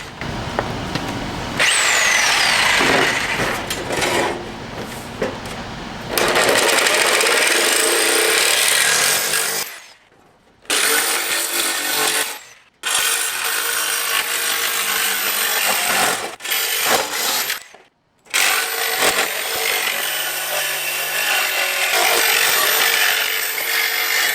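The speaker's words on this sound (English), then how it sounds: "I think I can trim this with my jigsaw pretty easy" A jigsaw trims a piece of wood with a loud, close, rasping buzz in long sustained runs, broken by a few brief pauses where the saw stops.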